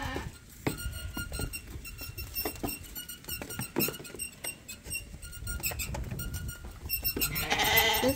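Sheep and lambs in a barn in mid-March, with scattered bleats and shuffling hooves over a steady busy background, some calls close and others further off, no talking.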